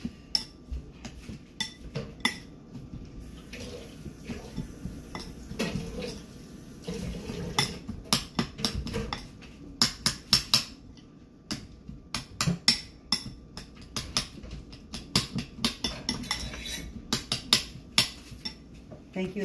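Meatball ingredients are mixed in a bowl, with irregular clinks and taps of utensil on dish, soft squelching and occasional running water, close and fairly quiet.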